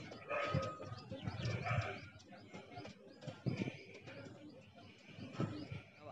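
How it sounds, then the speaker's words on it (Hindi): Tonk pigeons coo in repeated soft, low throaty phrases, with a few chirps and other bird calls mixed in close by, and a bit of background voice and movement around them. "टोक वाले कबूतर हैं जी"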